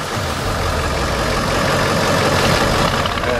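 Ford F-350 truck with a 7.3 diesel engine running at a steady idle close by, a continuous rough low rumble with no talking.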